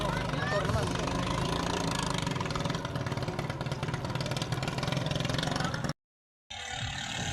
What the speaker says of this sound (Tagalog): Doon naman sa unahan, mayroong drag race ng motor naman